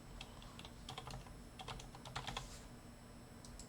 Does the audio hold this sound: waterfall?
no